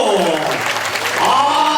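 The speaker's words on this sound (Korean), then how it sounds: "여러분 박수로 환영해 주십시오" An audience applauds to welcome a speaker to the stage at a city council member's 2024 report event, a dense, steady clapping with a voice underneath.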